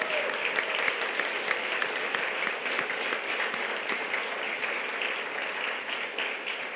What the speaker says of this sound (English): can we just give Lena another round of applause?